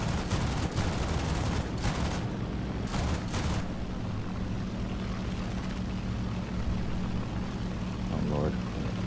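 Rapid gunfire and aircraft engine noise in War Thunder, a German mid-tier match, as a plane's pilot is sniped; dense bursts of shots crackle over a constant droning engine, loud and close throughout.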